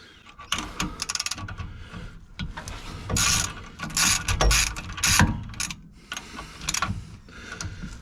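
A ratchet loosening the bolts on the drive shaft of a VY ute: bursts of rapid clicking and ratcheting, loud and close, with a few clunks in between.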